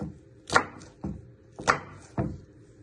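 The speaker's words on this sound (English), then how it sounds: "Then bring it all back together and you just want to slice it again" Knife slicing through a pepper on a chopping board, four crisp chops in two pairs at a steady rhythm, close and clear with no voices.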